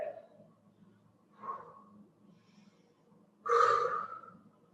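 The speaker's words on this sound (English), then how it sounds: "I'm heavy breathing tonight." Heavy breathing after kettlebell swings: two soft breaths, a pause, then a louder, longer gasping exhale near the end, close and alone.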